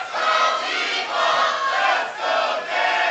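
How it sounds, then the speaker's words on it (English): A large wrestling event crowd cheers and chants in rhythmic, swelling waves, loud and continuous, with no commentary over it. "And now we got a split crowd."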